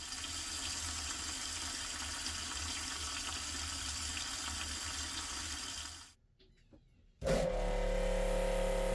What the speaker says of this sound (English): So the accumulator was low, pump started, it'll fill the accumulator back up and then click off.